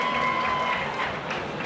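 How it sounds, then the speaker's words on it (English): A rugby crowd applauds an injured player off the field during a university varsity match, producing a steady, distant wash of clapping that continues evenly throughout with a faint tonal whine above it. "Really big applause there."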